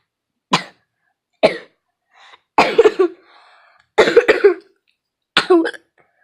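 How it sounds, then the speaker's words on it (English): Person coughing in a quiet room, five separate sharp coughs spaced about a second apart, some doubled into quick bursts, close and clear with faint throat sounds between and no talk. "Sorry for the cough."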